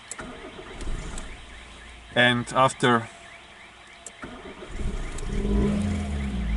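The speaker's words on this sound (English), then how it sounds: "I am turning on the engine by pressing with my left foot the debrayage, and I'm starting the engine." A Nissan Primera's engine is started on the second attempt, with short bursts of starter cranking followed by the engine catching and settling into a low, steady idle. Someone speaks briefly over it.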